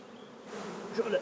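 Honey bees hum in a steady, close buzz at a wooden hive during queen rearing, swelling slightly toward the end, a brief dense swarm sound.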